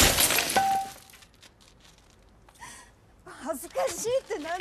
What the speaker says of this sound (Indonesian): ibunya kesal dan langsung memecahkan kaca mobil